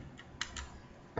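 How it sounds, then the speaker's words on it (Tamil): A few faint, close keystrokes typed on a computer keyboard entering a command in AutoCAD: scattered soft clicks in an irregular rhythm, ending on a firmer tap, with no talk. "ML டைப் பண்ணுங்கள், என்டர் ப்ரெஸ் பண்ணுங்கள்"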